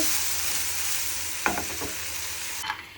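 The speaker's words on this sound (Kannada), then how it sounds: "ಫಸ್ಟ್ ಪ್ಯಾನ್ಗೆ ಒಂಚೂರು ಆಯಿಲ್ ಹಾಕಿ ಟೊಮೊಟೊನ ಫ್ರೈ ಮಾಡ್ಕೊತಾ ಇದ್ದೀನಿ" Tomatoes frying in a little oil in a pan, a steady sizzling hiss with a few brief stirring scrapes, close and without talk.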